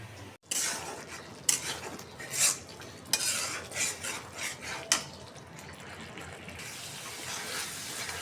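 A spoon scrapes and stirs spiced masala frying in a pan for an egg and potato curry, with repeated close, gritty strokes and clinks against the metal, and no talking.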